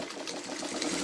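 A sewing machine stitches through a thick quilt in a steady, unbroken mechanical whir, close and moderately loud, with no voices over it.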